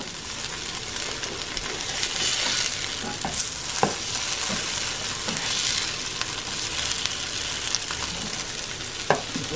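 Potato patties frying in a pan give a dense, continuous loud sizzle, with occasional scraping knocks as a spatula turns them over, heard up close and with no voices.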